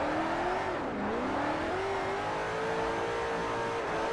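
A Koenigsegg CCX supercar engine in the Forza 4 racing game revs and hums continuously, its pitch dipping and then climbing steadily as it pulls under load, loud and close with no voices.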